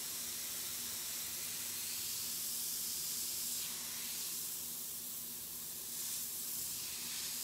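An airbrush sprays paint onto a rose in a steady, soft hiss with slight surges, close by and quiet, over a faint background hum.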